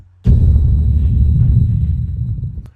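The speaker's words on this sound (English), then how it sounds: "Click X, and now it's muffled." Audio muffled through a low-pass filter in Sony Vegas: a loud, dull, bass-heavy wash begins abruptly after a quiet moment and holds steady with the highs stripped away.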